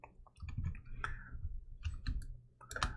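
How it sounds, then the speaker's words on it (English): Soft, close computer mouse clicks come in a few scattered taps over a quiet background. "Click OK"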